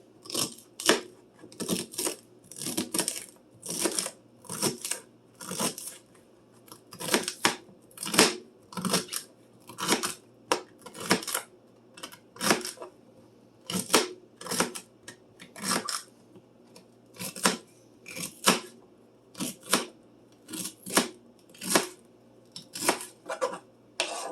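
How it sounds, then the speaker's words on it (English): A knife chops celery stalks into half-inch pieces on a cutting board, producing a long, steady series of crisp, close, evenly paced chopping knocks. "I'm going to cut them about a ½ inch."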